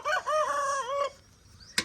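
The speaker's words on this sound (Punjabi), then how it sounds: "ਕੁੱਕੜ ਸਵੇਰੇ ਸਵੇਰੇ ਬੋਲ ਰਹੇ" A rooster crows once at dawn in a rural village, a close, clear, drawn-out call lasting about a second, followed by a short sharp click, with no talk.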